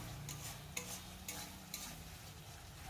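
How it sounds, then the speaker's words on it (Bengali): Spice masala frying in oil while being stirred for a pangas fish kalia, a soft continuous sizzle with a few light scrapes of the spatula, faint and with no talk. "না, এখানেই শেষ নয়, আরও কিছুক্ষণ কষাতে হবে।"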